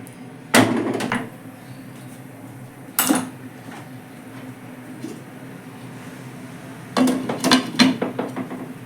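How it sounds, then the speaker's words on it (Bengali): Metal kadai being held and stirred over a gas flame while cooking Bengali ilish bhapa with hilsa fish and green chillies, giving a few loud metallic clanks and scrapes spread across the clip, with quieter rattles between them. "এইভাবে কড়াইটাকে ধরে একটু ভালো করে মিশিয়ে নিতে হবে"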